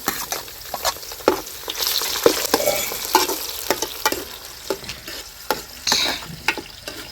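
Tomatoes sizzling in hot oil with onions and curry leaves for a simple brinjal curry, a steady close fry broken by repeated scraping stirs of a spoon in the pan, with no talking.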